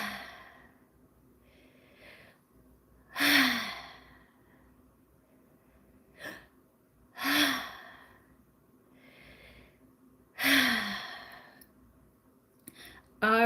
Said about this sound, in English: let's do the 4 breaths together